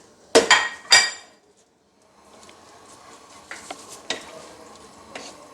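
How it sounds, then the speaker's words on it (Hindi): Boneless chicken going into a pan to fry: two loud metallic clanks of utensil on pan, then a quieter steady sizzle with occasional scrapes and clinks of stirring. "अब इसी पैन में हम चिकन डालेंगे और इसको फ्राई कर लेंगे।"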